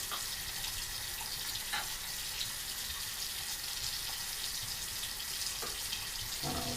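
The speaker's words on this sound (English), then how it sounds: "So I'm going to go ahead and get my cloth wet here." Water running steadily from a tap to wet a cloth, a constant close hissing splash with a few faint knocks and clinks.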